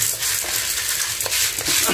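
Two and a half taels of soybeans roast in a dry pan, a steady crackling sizzle with scraping stirs rising in brief bursts, close and loud with no voices.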